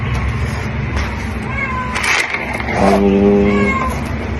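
A cat meows in a drawn-out, wavering cry near the end, following softer, shorter mews over a steady low background rumble.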